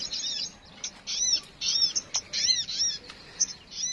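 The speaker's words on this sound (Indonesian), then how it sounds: "speaker HP-nya akan pancingan suara burung kleci atau burung sogon" Kleci or sogon bird calls play from a phone speaker outdoors, a run of loud, sharp chirps and whistling trills repeating in quick bursts with brief gaps between them.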